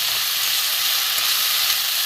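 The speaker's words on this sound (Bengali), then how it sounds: "একটু ভাজা ভাজা হোক" Vegetable peels fry in a pan with salt and turmeric, giving a steady, dense, close sizzle with a constant hiss and no talk.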